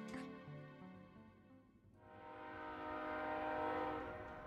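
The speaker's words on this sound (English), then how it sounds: "Train noise." A train in a Sonic the Hedgehog murder-mystery game, a steady rolling rumble with a sustained horn-like tone that swells louder in the second half, heard alone without talk.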